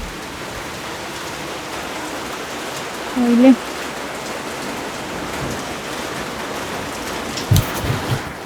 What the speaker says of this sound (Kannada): ಗುಡುಗು ಮಿಂಚು ಜೋರು ಮಳೆ ಬರ್ತಾ ಇದೆ ಹೊರಗಡೆ.